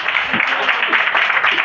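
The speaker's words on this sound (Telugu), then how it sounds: "కొట్టండి చప్పట్లో" A church congregation claps at a Christmas service, a fast crowd patter rising and falling in short waves, with a voice faintly beneath.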